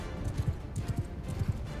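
Horse hooves clip-clopping at a gallop in the medieval combat game Mount & Blade II Bannerlord, a steady rhythmic run of thudding beats over low background noise, with no talk.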